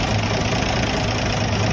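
A 1974 Toyota FJ40 engine runs after a cold start, a steady, loud idle rumble heard up close with no break.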